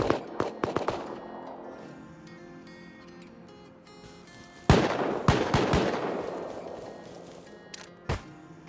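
AK rifle fire in the survival game Rust comes as rapid bursts of loud, close shots, a volley at the start and another mid-way trailing off into echoing decay, with a lone shot near the end.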